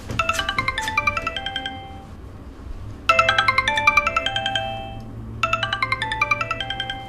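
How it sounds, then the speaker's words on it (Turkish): A mobile phone rings loudly indoors, giving out bright repeating bursts of a melodic ringtone with short pauses between them and no talk over it. "dur telefonum çalıyor"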